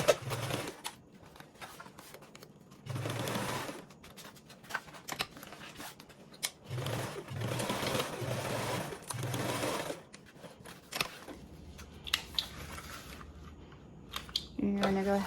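A domestic sewing machine bastes a zipper onto a bag with a 1/8 inch seam allowance, whirring in several steady bursts close by, with handling noises between runs.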